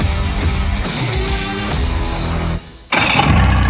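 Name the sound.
boat engine starting and idling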